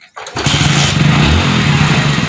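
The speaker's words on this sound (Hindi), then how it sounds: "जैसे कि मैंने ये गाड़ी स्टार्ट कर ली है" A motorcycle engine fitted with a GPS tracker cranks and catches after a brief quiet start, then settles into a loud, steady idle close by with a low rhythmic thrum.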